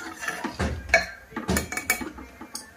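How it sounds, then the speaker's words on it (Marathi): Washed jeera rice is stirred in a pan over high heat, giving irregular metallic scrapes and clinks of the spoon against the pan with only a faint rustle of grains. "भात मी आता हा छान परतवून घेत आहे।"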